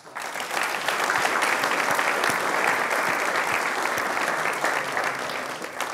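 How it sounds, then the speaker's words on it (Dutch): An audience in a hall at the Dutch Supreme Court (Hoge Raad) gives sustained, even applause for several seconds at a meeting on the new Code of Criminal Procedure, with a faint murmur beneath. "En voor al die mensen wil ik misschien toch nu even vast een applaus vragen in plaats van op het einde."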